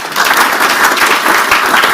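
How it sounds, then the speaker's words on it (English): A conference audience claps for the panel moderators at a health innovation event, a dense, sustained round of applause filling the whole moment without pause. "A round of applause for moderators."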